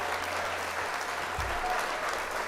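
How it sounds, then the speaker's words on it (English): In a story scene of the video game Arknights, a crowd applauds ferociously as a performer bows: a steady wash of clapping at moderate level, with a low thump partway through. "the crowd erupts into even more ferocious applause"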